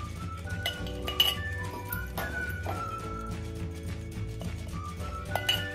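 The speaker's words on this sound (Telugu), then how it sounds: "ఇది చారు పొడి అంతా నేను ఇలా గ్లాస్ జార్లోకి స్టోర్ చేసేస్తున్నాను." Glass jar clinking repeatedly as homemade rasam powder is spooned and stored into it, sharp close taps and rattles recurring over a steady low kitchen hum, no talking.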